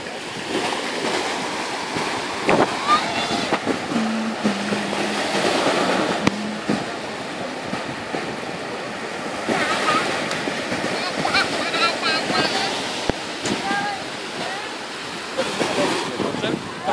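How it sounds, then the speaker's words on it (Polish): Sea surf rolls onto a beach in steady, washing surges, blended with gusty wind buffeting the microphone, while people talk nearby. "Zobacz, Ignacio, morze."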